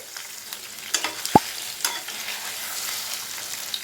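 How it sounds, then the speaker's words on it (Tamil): Paneer shallow-fries in a pan with a soft, steady sizzle and a few light stirring clicks and taps, one sharper knock standing out, quiet and close with no voices. "எல்லா சைடும் வேகராப்பில் பரட்டி விட்டு ஷாலோ ஃப்ரை பண்ணி எடுத்துக்கலாம்"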